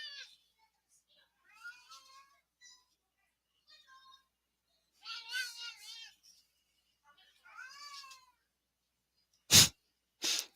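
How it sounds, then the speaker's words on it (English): House cat meowing in a quiet room, a series of separate meows and drawn-out wavering cries spread across the span, close and clear, followed by two sharp loud bursts near the end. "You hear my cat?"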